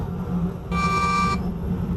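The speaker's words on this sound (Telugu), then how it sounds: "same horn guys" A truck horn in the Truck Master India driving game sounds once, a steady tone held for well under a second over a constant engine rumble.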